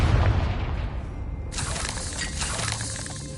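A Confringo spell explodes in Hogwarts Legacy, a booming blast with crackling, shattering debris that stays loud and dense throughout.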